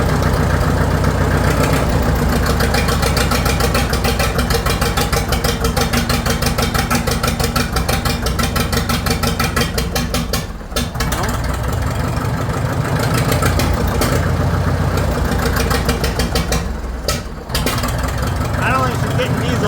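A Farmall 650 tractor engine idles roughly as it warms up, a loud close chugging with a fast regular firing pulse throughout, briefly dipping twice; a voice is heard over it.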